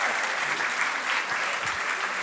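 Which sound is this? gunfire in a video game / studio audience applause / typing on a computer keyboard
studio audience applause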